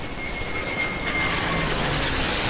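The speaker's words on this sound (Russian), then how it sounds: "Самолет меня сбивает." A plane flies overhead in Call of Duty as a loud, sustained engine roar with a steady whine, alone and without talk.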